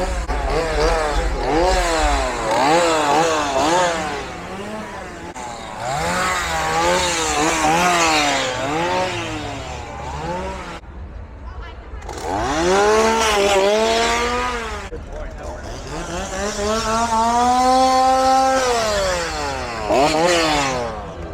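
Chainsaws rev and whine in rising and falling pitch sweeps at a Halloween haunted attraction scare zone, loud and continuous, with brief gaps between bursts, throttled up close.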